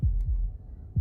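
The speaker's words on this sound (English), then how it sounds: "That was the sound of a heartbeat," A heartbeat in the video game Slay the Princess, made of deep, close, muffled thumps: a double beat at the start, another shortly after, and a fresh one at the end, with no voices.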